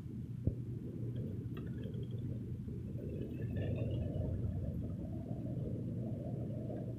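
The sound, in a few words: thunder rumbling during rain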